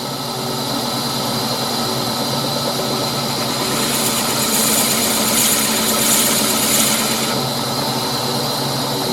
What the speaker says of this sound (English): Taking as much out with a Forstner bit as I can to alleviate any stress on the rest of it while I'm trying to hollow out.